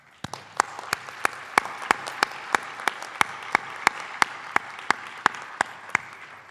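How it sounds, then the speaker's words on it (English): A ceremony audience of faculty and staff applauds the scholars at an academic awards evening, dense continuous clapping from many hands with crisp, evenly spaced louder claps cutting through, steady and sustained from start to finish. "join me in actually doing a round of applause for our scholars here this evening"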